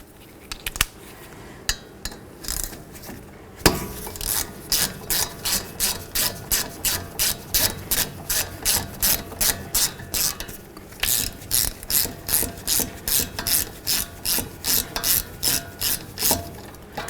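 Hand ratchet loosening the brake caliper bolts on a Dodge Journey, starting with a few scattered clicks and metal handling, then steady rapid rounds of close, sharp clicking strokes repeating in an even rhythm.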